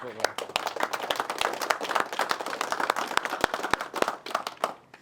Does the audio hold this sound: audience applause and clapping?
yes